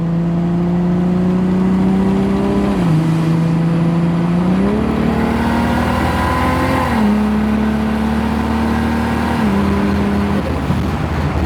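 A Nissan S14 Silvia fitted with an 8HP70 automatic transmission drives along in auto mode, its engine note droning loud and steady and stepping down cleanly at each gear change while it pulls gently, heard from inside with no talk.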